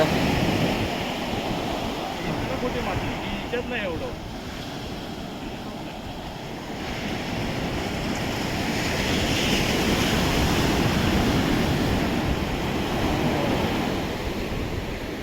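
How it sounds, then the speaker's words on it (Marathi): Ocean waves wash and break continuously onto an empty beach at Vengurla, a broad rushing roar that swells and eases, with some wind noise. "अथांग निळाशार समुद्र आणि त्याच्या येणाऱ्या मोठमोठ्या पांढऱ्या शुभ्र लाटा"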